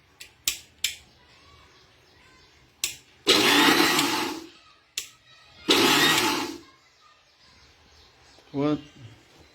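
Walnuts coarsely crushed in a kitchen mixer grinder for walnut halwa, two loud whirring bursts of a few seconds each, surrounded by short clicks and knocks of the jar and lid.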